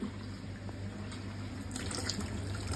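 Flood water from a kitchen pours and splashes steadily into a container, a continuous watery rush with a low hum underneath, growing a bit brighter toward the end.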